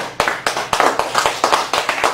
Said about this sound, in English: you gotta give those three women a massive round of applause